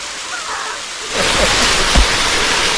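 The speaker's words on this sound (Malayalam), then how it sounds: "നമ്മളിവിടെ പോകുന്ന വഴിയിലുള്ള ഒരു ചെറിയ വെള്ളച്ചാട്ടമാണ്." A small waterfall in the Silent Valley forest near Palakkad, a steady broadband rush of falling water that grows noticeably louder and fuller partway through and stays close and constant.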